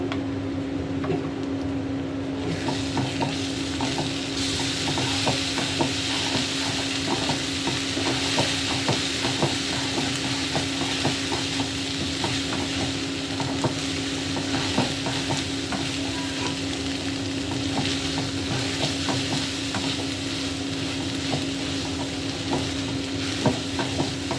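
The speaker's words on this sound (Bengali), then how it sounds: "এবার একটু পেঁয়াজ রসুন আদা পেস্ট দিয়ে দিব" Onion, garlic and ginger paste frying with beef in a pan, giving a continuous loud sizzle with stirring scrapes throughout. There is no talk over it.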